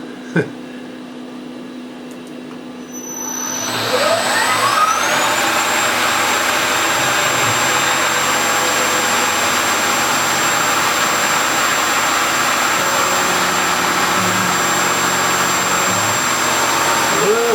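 A CNC milling machine cuts a carburetor adapter plate on its first run: quiet for a few seconds, then a rising spindle whine settles into a loud, steady, roaring hum of cutting.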